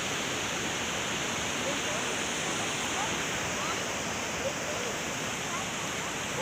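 Water rushes loudly and steadily near the Chamunda temple, a continuous broadband roar that stays even for the whole stretch, with no talk over it.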